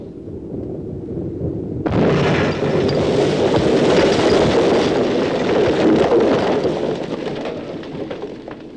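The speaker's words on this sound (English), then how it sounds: "The force of the explosion generates a shock wave to the side of the ship." Explosives blast ice beside the Coast Guard icebreaker USCGC Northwind, a sudden loud boom that rolls into a sustained, roaring rumble and wash of churning ice and water lasting several seconds, fading slowly.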